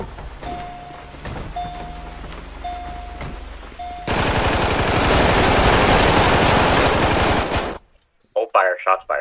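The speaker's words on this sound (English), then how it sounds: "shots fired" Rapid automatic gunfire in a police roleplay video game, a loud sustained burst of shots after a few scattered pops, then a sudden cut to quiet with voices talking.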